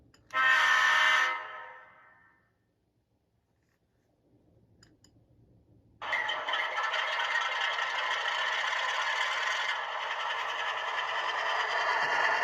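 Bowser RS3 model diesel locomotive starting up: a short loud horn blast, a quiet pause with faint clicks, then a sound-equipped engine rumble kicks in and runs steadily and fairly loud.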